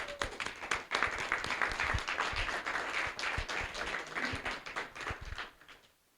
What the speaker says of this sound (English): All right, let's give our panelists a round of applause.